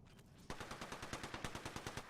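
Automatic weapon fire in the Apex Legends video game: after a faint lead-in, a rapid, evenly spaced burst of about fifteen sharp shots rings out, close and punchy, with no talk.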